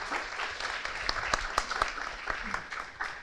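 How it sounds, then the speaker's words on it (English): An audience at a funding event in Buenos Aires gives brief, moderate applause, with scattered individual claps standing out over the steady patter. "Give him a warm round of applause."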